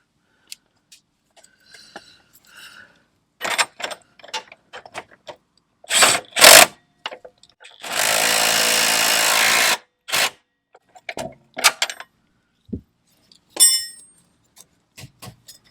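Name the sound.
impact gun tightening rear strut bolts on Dodge Grand Caravan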